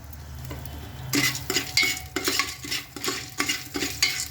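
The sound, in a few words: stir-frying corn kernels with turmeric and salt in a pan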